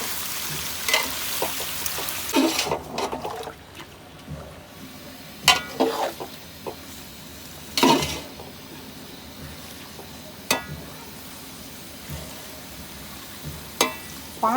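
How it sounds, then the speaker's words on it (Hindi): Kaleji, goat liver, fries in a pan with a steady low sizzle, broken by occasional scraping stirs and metallic clinks of a spoon against the pan. No one speaks. "कलेजी हमने डाल दी है। इसको हम 5 मिनट तक अच्छी तरह फ्राई कर लेते हैं।"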